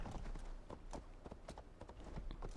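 A horse gallops in Assassin's Creed Valhalla with rapid, rhythmic hoofbeats close and steady across the whole stretch, no voices over it.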